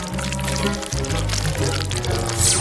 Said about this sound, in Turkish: Bu sıvıyı bardağa dökeceğim.